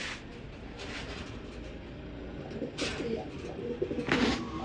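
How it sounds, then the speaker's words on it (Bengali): Pigeons kept for sale coo softly in low, throaty phrases toward the end, set against steady background hum and noise, moderately distant. "খুব ভালো কোয়ালিটির কবুতর আছে"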